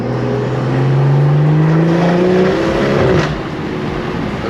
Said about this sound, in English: So we gotta do 4th gear, 2500 to 4000 RPM.